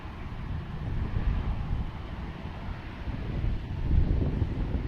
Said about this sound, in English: It is a little windy right now.